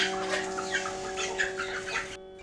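Household chickens on a village farm cluck softly and intermittently over a steady tonal hum, faint and somewhat distant, with no talk.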